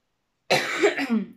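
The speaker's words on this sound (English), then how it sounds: "if coughing and everything happens in the video, I'm sorry" A single harsh, rasping cough, close and loud, starting abruptly after silence and trailing off within a second.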